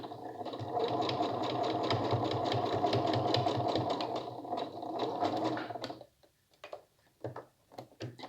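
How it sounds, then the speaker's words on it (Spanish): A sewing machine stitches a straight seam on a toiletry bag, giving a close, steady, rapid mechanical whir and tick for about six seconds before stopping, followed by a few scattered clicks. "vamos a coser una línea recta"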